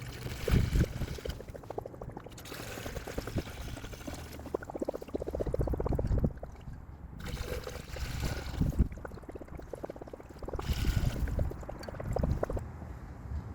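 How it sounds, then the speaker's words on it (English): Premixed coolant poured into the radiator of a 2014-2021 Mazda with a 2.5L engine, a quiet, uneven gurgling trickle that swells and fades in several bursts, with no talking. "I'm going to go ahead and top off the radiator now."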